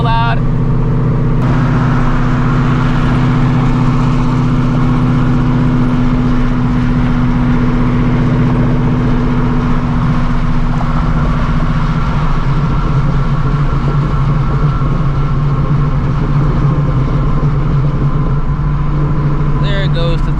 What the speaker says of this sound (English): My car is so loud.